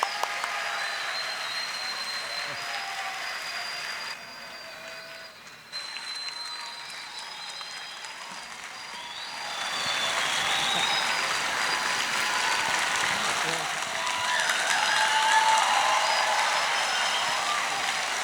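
Church congregation at an Easter service clapping to welcome a guest singer, steady crowd applause that dips briefly, then swells louder and fuller for the rest, heard from across a large hall.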